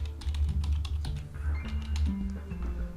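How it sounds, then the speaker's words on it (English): A computer keyboard clatters with a quick, irregular run of keystrokes as someone types a password, close and fairly loud, with no talking. "type your password"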